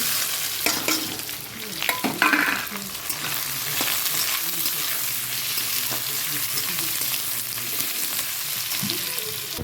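Chopped onion is tipped into a pan with whole cumin and frying, a continuous loud sizzle with scraping and stirring clatter early on, close to the pan.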